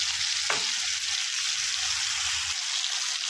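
Spice paste frying in hot oil for a Bengali rohu fish curry, a steady close sizzle with one brief scrape of tossing near the start.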